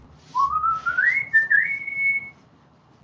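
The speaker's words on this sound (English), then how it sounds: "So I will whistle to give you some background noise." A person whistles a short rising, sliding melody, clear and close, several connected notes gliding upward and holding before stopping, against a quiet background.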